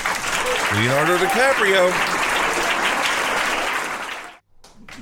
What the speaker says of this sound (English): we're giving a round of applause